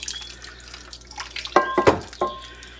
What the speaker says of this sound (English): So we're just going to pour this sauce